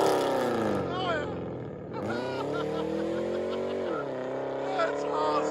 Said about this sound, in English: Dodge Charger Daytona, fully straight piped